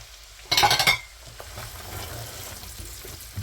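Carrots and celery are stirred in a pot, giving a brief loud burst of scraping and sizzling near the start that then settles into a quieter, steady frying hiss.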